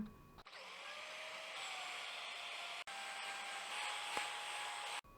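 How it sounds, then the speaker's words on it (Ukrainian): Electric hand mixer whisking three egg whites with a pinch of salt to stiff peaks, a steady whirring motor drone with a faint slight rise in pitch, broken by a couple of brief clicks. "До трьох білків даємо щіпку солі і збиваємо міксером до стійких піків."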